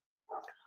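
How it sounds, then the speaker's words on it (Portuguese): A dog gives one short, faint bark close by, alone after a brief silence. "Porque tem um cachorro latindo muito perto de mim."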